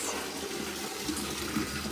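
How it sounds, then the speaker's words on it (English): Tap water gushes into a mop bucket in a home, a loud, steady rush of filling liquid with no voices. "while I'm running the mop bucket"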